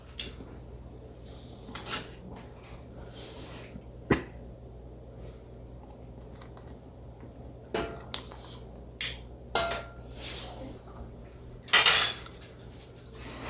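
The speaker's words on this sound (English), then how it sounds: "I'm going to go ahead and take up some of this pasta. I just cooked some spaghetti. And I'm going to use the tongs" Tongs serve freshly cooked spaghetti in a home kitchen, with a few sharp metallic clinks and taps against a pot or dish scattered across quiet stretches, plus a brief cough.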